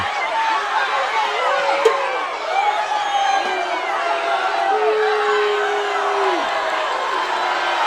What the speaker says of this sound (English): Now you hear the crowd not happy with the no call